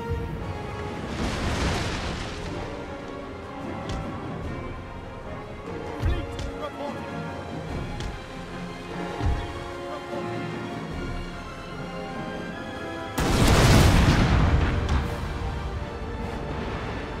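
Two deep booming blasts of cannon fire in Napoleon: Total War, one early and a louder one later, over a continuous bed of game music and effects.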